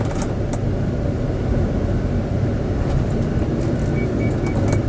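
A car engine runs with a steady, loud low rumble and broadband roar throughout, held at high throttle with no clear rise and fall, close by and with no talk over it.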